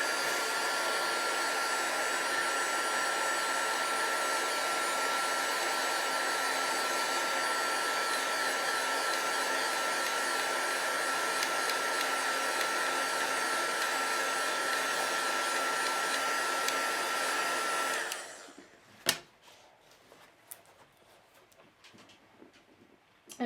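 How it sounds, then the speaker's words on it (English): A heat gun blows steadily and loudly for about eighteen seconds while drying alcohol marker ink on a stamped card during a live crafting session, then cuts off abruptly, leaving quiet handling clicks and faint room noise. "I'm going to heat dry this with my heat gun"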